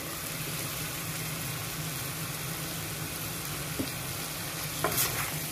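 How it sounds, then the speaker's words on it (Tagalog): Pancit canton noodles with carrots stirred in a frying pan, giving a steady soft sizzle with scraping utensil strokes and a couple of light clinks near the end. "So, haluin lang natin."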